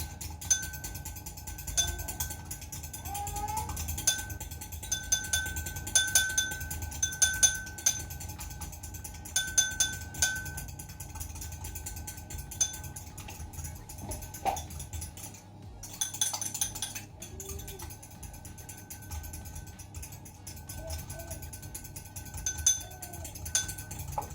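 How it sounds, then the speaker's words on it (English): A metal whisk beats oil and vinegar into a French vinaigrette in a bowl, giving quiet, irregular clinking and rattling against the bowl that runs on for a long stretch without speech. "drizzle this in and just whisk"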